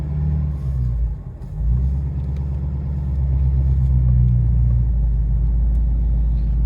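A sand-hauling machine's engine idles and rumbles as it backs up on an excavation site moving hurricane storm sand, a steady, loud low drone with slight swells in power throughout.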